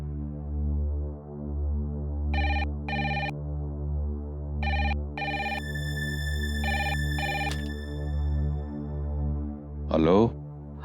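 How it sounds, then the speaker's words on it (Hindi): Telephone ringing tone heard on a call in a Hindi TV drama, with repeated paired bursts of ringing over a steady backdrop, ending in a brief warbling sound. "मैं खुराना साहब को फोन करता हूँ, सब ठीक हो जाएगा।"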